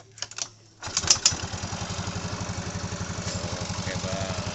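A few clunky kicks on the kick-starter of a motorcycle that suddenly won't take throttle, then the engine catches and settles into a close, steady, rhythmic idle putter.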